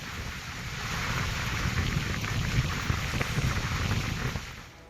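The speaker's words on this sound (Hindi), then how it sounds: "भावनगर में कितनी तेज बारिश हो रही है" Heavy rain pours down in Bhavnagar, a dense continuous hiss of falling water that swells slightly and stays steady before cutting off at the end.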